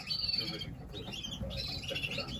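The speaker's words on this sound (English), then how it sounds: "They are a lovely bird." Coloured canaries in a breeding room chirping and twittering, a faint, busy mix of high tweets and warbles over low background noise.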